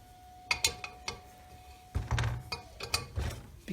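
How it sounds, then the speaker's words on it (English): Old drain plugs being screwed in and out of a heavy-duty front axle differential pan, giving a series of separate metallic clicks and thunks, close by and moderately loud, with brief pauses between them. "I'm going to screw this one out and screw this one in"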